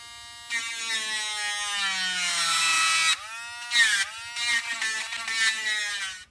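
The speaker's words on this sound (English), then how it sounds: "I've got this little engraving tool, which is a bit not sharp anymore, but we'll see if that'll actually cut this vein" A small, slightly dull engraving tool cuts into a vein, giving a close, steady high-pitched electric whine that runs for about three seconds, breaks off, then comes back in several shorter bursts.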